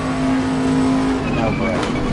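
A race car in Assetto Corsa accelerates hard, its engine holding a loud, steady high-revving tone that shifts pitch midway as it changes gear, with someone talking over it.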